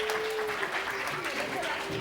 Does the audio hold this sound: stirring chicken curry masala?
no